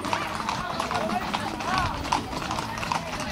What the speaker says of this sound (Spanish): Muchos caballos, muchos caballos.